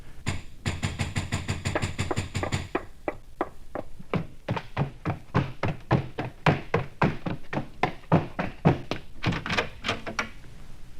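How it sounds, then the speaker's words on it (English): Knocking on a street door for an audio drama: hard, close knuckle raps come in quick runs, then pause and start again in repeated rhythmic bursts, loud and alone. "There came knocking on the street door."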